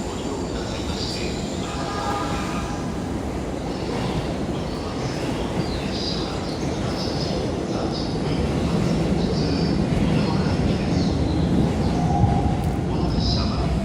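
Ambience on platforms 5-6 at Yokohama Station for the down Tokaido Line: a continuous low rumble of a train and station machinery, with distant chimes and faint announcements over steady noise that swells slightly toward the end.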